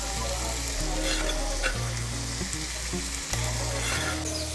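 Winged beans sizzle and crackle steadily in hot oil while being stir-fried, with a constant close hiss and scraping stir sounds. No one speaks.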